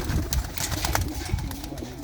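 Big, sturdy kept pigeons at Lambu Mahmoodpur give soft, low cooing close by, mixed with handling rustles and bumps.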